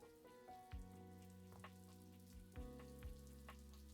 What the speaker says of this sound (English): What am I hearing? That sizzling.